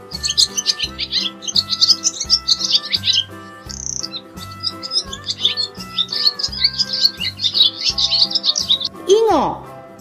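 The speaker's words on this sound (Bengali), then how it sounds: "ঘয়ে ঘুঘু পাখি ডাকছে গাছে।" A dove calls from a tree amid chirpy bird sounds over a rhythmic children's rhyme backing, with a short falling call near the end.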